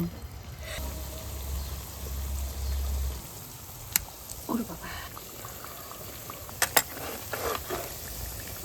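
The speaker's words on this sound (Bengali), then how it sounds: "দেখুন আমার হৃদয় হরণ ভালো মতো ভাজা হয়ে গেছে" Pitha, a Bengali cake, frying in white oil, giving a soft steady bubbling sizzle with a few sharp clicks and faint clatter of utensils, low and close throughout.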